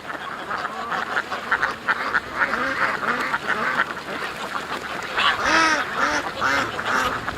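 A flock of ducks quacking repeatedly close by in a farmyard, with overlapping calls in an uneven rhythm over a background of wind rumble.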